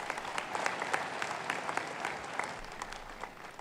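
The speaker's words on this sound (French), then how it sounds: "Applaudissons pour Jésus-Christ." Church congregation applause during a service, a fairly distant, steady patter of many hands clapping with occasional louder individual claps, continuing without a break.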